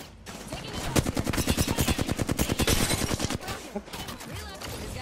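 Rapid gunfire from a video game shooter, a dense burst of shots lasting several seconds that thins out near the end, loud and close.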